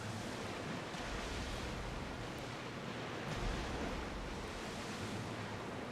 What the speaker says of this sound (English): Very big waves.